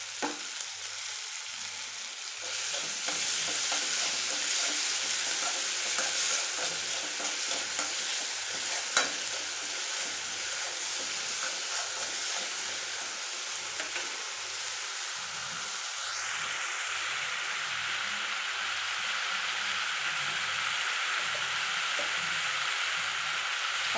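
Chopped tomato frying in an onion dish, a steady hiss of sizzling with soft, regular scraping strokes of stirring in the pan, close up and without talk.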